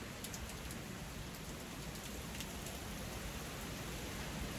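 Steady rain falling outdoors, a continuous soft wash of drops hitting surfaces, fairly faint and even throughout with no voices.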